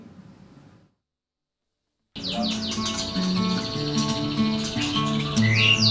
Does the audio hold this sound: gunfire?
no